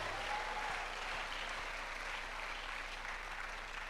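Church audience at a blessing service led by a bishop breaks into loud, sustained applause, a dense even wash of many hands clapping that holds steady throughout.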